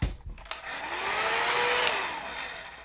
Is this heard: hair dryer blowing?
yes